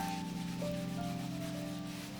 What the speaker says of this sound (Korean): 사포질을 시작합니다.